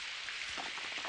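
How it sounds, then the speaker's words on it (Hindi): Heavy rain in a Doraemon cartoon, a steady hiss of downpour with soft pattering drops, even and continuous throughout, with no voices. "बहुत तेज बारिश हो रही है।"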